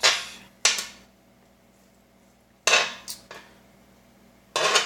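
Several sharp metallic clanks of a utensil against a pan while breakfast burrito ingredients are stirred together, spaced apart with quiet gaps, close and fairly loud.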